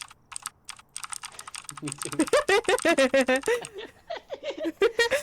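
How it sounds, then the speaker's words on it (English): Clicky computer keyboard keys are typed in a quick, light run of close clicks during a Phasmophobia game session, followed by people talking over more scattered clicks. "Keyboard click. Clicky, clicky, click."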